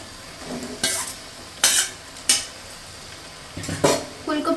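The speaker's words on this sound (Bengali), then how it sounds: "এখন এটাকে ভালো করে একটু নেড়ে চেড়ে কষিয়ে নেব" Fried cauliflower is stirred and sautéed in a pan of spiced oil. A soft background sizzle runs under several sharp, close scraping and clinking strokes of a spoon against the pan, spaced irregularly.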